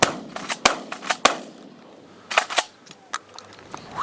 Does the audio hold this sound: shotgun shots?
yes